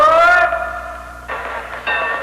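A toy model railway train sounds a bright whistle as it departs a station, followed by two shorter whistle blasts separated by quiet gaps.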